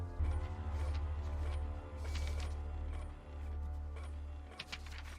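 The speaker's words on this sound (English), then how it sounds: "that printer was very slow" A printer in a TV show scene works slowly with a low mechanical hum and whirring feed, broken by soft clicks and creaks, a brief pause mid-way, then more whirring, fairly quiet and close.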